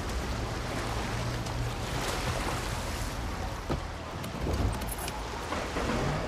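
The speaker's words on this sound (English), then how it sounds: "Let's go down here. That little jet ski." Jet ski in Far Cry New Dawn skimming across open water, a steady broadband rush of spray and wind with low engine drone, loud and close throughout with a few splashing bumps.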